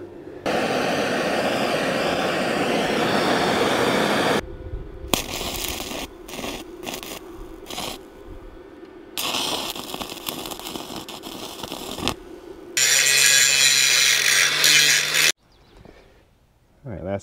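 Arc welding with stainless steel rods on a Caterpillar D4 Hyster winch rebuild, heard as several close, harsh, crackling sizzle bursts of varying length with brief gaps, ending in a quieter tail.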